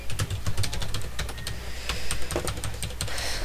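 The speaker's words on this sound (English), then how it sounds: "If you can hear my keyboard in the background, that's because I have like a kind of half mechanical keyboard thing." Rapid typing on a half-mechanical keyboard, a dense, steady patter of clicky keystrokes close to the listener, with no talking.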